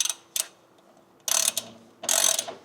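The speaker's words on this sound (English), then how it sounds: "for the upper support, we're going to use the 24 millimeter ratcheting box wrench" A 24 mm ratcheting box wrench tightens the upper nut on a Nimbus suspension upper support of a Toyota Land Cruiser 100 Series. Three short bursts of fast ratchet clicking ring out close by, with quiet pauses between them.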